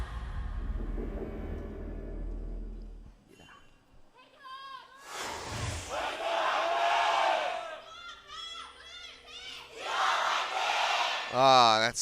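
Large live esports crowd in a packed LCK arena, cheering and roaring in loud swelling waves, with a caster talking over parts of it.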